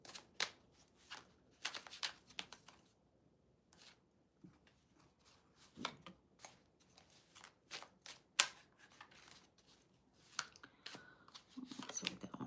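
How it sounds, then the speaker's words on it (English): Playing cards being shuffled in repeated bursts, crisp riffling and snapping sounds with short pauses between, close and fairly quiet. "Shuffle again for Cherry Blossom."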